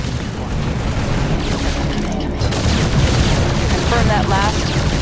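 Dense battle gunfire from the StarCraft II Nova Covert Ops video game, a continuous loud barrage of shots and booms with some heavy bursts, running steadily throughout with brief voice-like chirps near the end.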